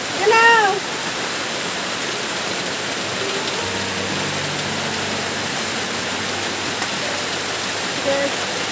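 Heavy monsoon rain pours steadily and loudly all around, a dense unbroken roar with a brief louder swell at the start.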